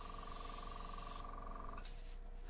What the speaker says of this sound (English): I'm going to start off by spraying onto the template and then moving up to the edge